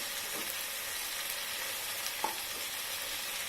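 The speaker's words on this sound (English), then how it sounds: "saute, fry it, mix everything nicely." Spices with chilli powder and garam masala sauteing in a pan for khichdi, a continuous hissing sizzle with faint stirring touches, heard alone and fairly quiet.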